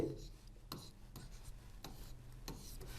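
Chalk or a marker writes a formula on a board in a classroom, producing quiet scratchy strokes and short taps in an irregular rhythm, close and faint, with no talking over it.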